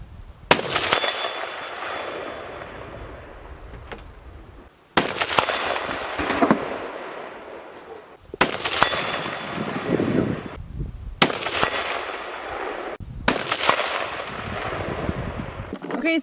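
Remington 700 rifle shots during sighting in outdoors in Alaska, five loud sharp cracks spaced a few seconds apart, each followed by a long rolling echo and decay.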